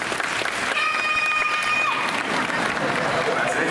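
Audience clapping at an outdoor parrot show in Animal Kingdom, Walt Disney World, a dense steady patter of many hands with crowd murmur and a brief whistle-like tone partway through.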